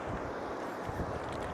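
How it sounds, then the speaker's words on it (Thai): Wind blows beside a river, buffeting the microphone with a soft, low, uneven rumble and gusts, and no one speaks. "โอ้ลมซะเนาะ"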